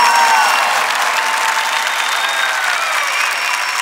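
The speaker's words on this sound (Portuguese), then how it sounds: "aplauda para valer esse seu irmão que está do seu lado" A church congregation applauds steadily at a Catholic gathering, a dense, sustained wash of many hands clapping throughout, loud and close with no voices standing out.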